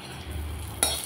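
Five-spice, dried red chilli, asafoetida and bay leaf dropped into hot mustard oil for dal tempering, a brief close sizzle that flares sharply near the end.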